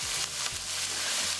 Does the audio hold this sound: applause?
no